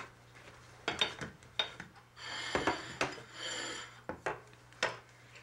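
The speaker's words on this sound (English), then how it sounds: "Just take a small knife and cut the fruit at the edge" A small knife cutting ripe mango into fancy wedges for an Indian vegetarian dessert, giving several short close scraping and rasping strokes with soft knife taps, spread irregularly through the stretch.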